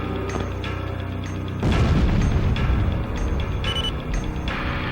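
A destroyed SAM site explodes in the flight combat game Ace Combat Zero, a sudden heavy boom bursting over steady jet engine noise and rumbling on for a few seconds.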